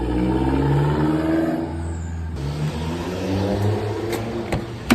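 Car driving off after repairs, with an engine revving and humming close by as it pulls away, loud and steady for several seconds.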